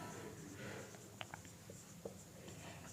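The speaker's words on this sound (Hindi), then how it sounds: "तो उसकी डेफिनेशन हम लिखते हैं," Pen on paper scratches quietly as a definition is written out, a faint scraping with a few small taps, set against a low room hum and no speech.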